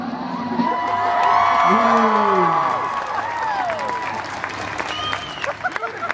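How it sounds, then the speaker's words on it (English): A convention crowd at a cosplay event applauds and cheers after a guest takes a pie in the face, with sustained clapping, whoops, and excited voices and laughter rising over the noise. "Let's give him a big round of applause, please!"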